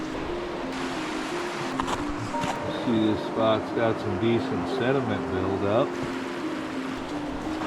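Seattle Creek in remote Alaska runs beside a snowy road, its water rushing in a steady broadband wash. Someone talks over the flow partway through.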